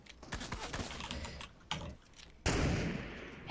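Rapid gunshots in Fortnite Arena Duos mixed with loud keyboard clicking, sharp cracks in quick succession, a brief pause, then a dense burst of gunfire.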